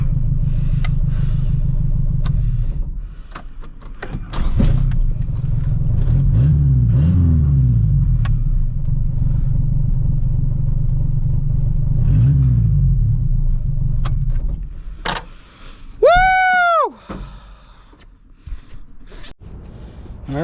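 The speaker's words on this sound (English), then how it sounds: "Finally, after 20 years, the Mazda moved on its own to a different parking lot" A Mazda B2200 pickup truck engine rumbles steadily up close as it drives, with brief revs, then drops off near the end, followed by a short rising electronic whine and quieter idle.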